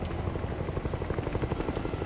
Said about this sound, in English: 2 Black Hawk helicopters take off from a US airbase.